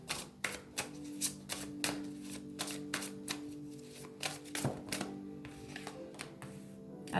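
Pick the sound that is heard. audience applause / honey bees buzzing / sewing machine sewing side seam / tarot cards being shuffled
tarot cards being shuffled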